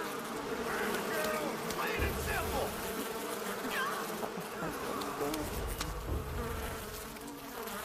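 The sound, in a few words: bees buzzing in the video game Far Cry 5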